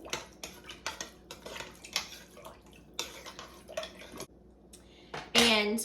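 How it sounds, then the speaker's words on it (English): A spoon scrapes and clinks against a pot while salt and pepper are stirred into homemade chicken noodle soup, with quiet irregular metallic taps and a louder clatter near the end. "And then we're going to stir these in."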